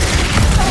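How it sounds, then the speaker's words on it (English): Symmetra's turret being destroyed in Overwatch 2, a short, dense burst of low rumbling, booming crunch lasting under a second, loud and close with no talk over it. "My turret was demolished."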